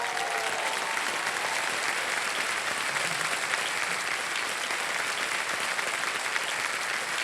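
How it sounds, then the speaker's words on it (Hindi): Studio audience applause on a TV quiz show, a dense, even roar of many hands clapping without pause, steady and fairly loud throughout. "तो एक बार फिर जोरदार तालियां बज जाएं"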